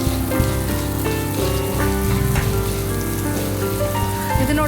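Finely chopped onions frying for paneer shahi kuruma give a dense, steady sizzle filling the whole stretch, loud and close, with no talking over it.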